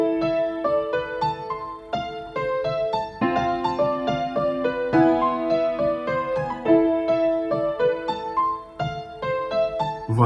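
A dark, emotional trap melody played at normal tempo without a half-tempo effect, a bright plucked or keys-like line stepping through quick repeated notes in a steady rhythm, clear and upfront with no voices.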